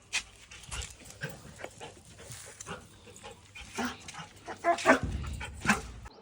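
A dog barks and yips a few times at a distance, faint and irregular, with scuffing outdoor noise around it.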